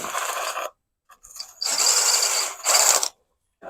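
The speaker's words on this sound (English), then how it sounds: "So that's about how much you can do with a drill at one time." A power drill bores holes through plastic seed trays in three bursts of whirring and grinding, the middle one longest, separated by short pauses with light handling noise.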